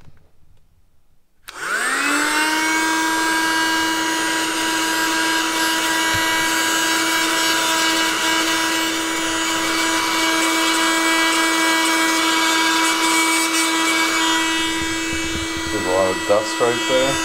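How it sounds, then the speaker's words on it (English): A mini USB vacuum motor switches on with a sharp whine while cleaning a keyboard, running steadily at a high, even pitch, loud and close, before some faint handling noise near the end. "So the mini USB vacuum worked quite well."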